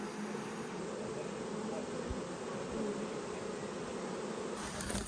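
A steady, dense drone of a swarm of bees buzzing all around in the mountains near Vyzhenka, continuous and even throughout, with no voices.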